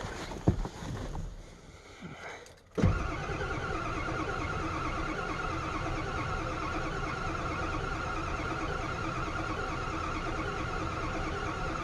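A cheap 7.3L diesel truck cranks on its starter without firing, a steady loud mechanical grinding drone that runs on unbroken after a few early clicks and a clunk.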